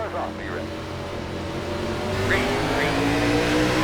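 NASCAR Xfinity race car engines in an iRacing video game roar and rev steadily on an oval track, rising slightly in pitch as a car shifts gear, with a constant loud motor drone throughout.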